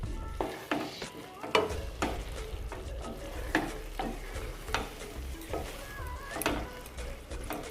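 Curry sizzles and crackles in a pan over a raised gas flame, with bursts of stirring and scraping from a spoon, close and fairly quiet, no talking.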